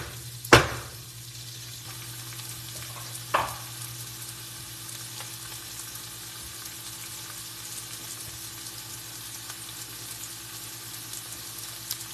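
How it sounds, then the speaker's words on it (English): Onions caramelizing in a skillet for patty melts give a steady, soft broadband sizzle throughout, broken by two sharp utensil clacks early on, with no talking. "I'm gonna add in these onions so that we can caramelize our onions."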